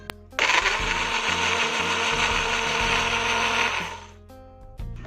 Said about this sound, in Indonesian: Sekarang kita akan memblender nenasnya